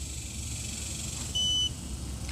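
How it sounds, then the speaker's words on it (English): A Growatt Infinity 1500 portable power station gives a single short, clear electronic beep as it powers up, heard over a steady background hiss. "I'm simply going to press this button until it beeps and lights up"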